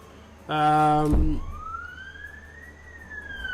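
A short loud harmonic blare cuts off abruptly, then a distant police siren slowly rises in pitch as it passes outside, faint under room noise.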